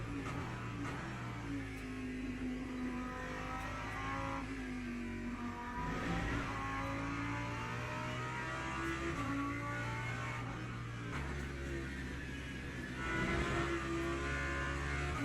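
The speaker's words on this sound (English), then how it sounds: "I love the sound of Lambo, by the way. This engine just" A Lamborghini engine in a racing simulator game drones and revs continuously, its pitch rising and dropping through gear changes, steady and fairly loud with no talking.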